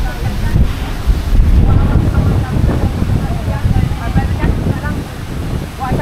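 Strong wind buffeting the microphone on Boracay beach, a loud continuous roar with surf mixed in, and voices talking over it throughout.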